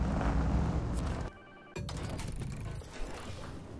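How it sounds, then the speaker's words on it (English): A telephone rings somewhere in the background, its repeated bell tones coming through during a brief lull in steady mechanical clatter and engine rumble from SnowRunner truck gameplay. "there was a random phone just ringing in the background"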